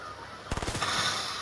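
Fortnite gunfire: a rapid burst of several sharp shots close together, loud and brief over faint game background.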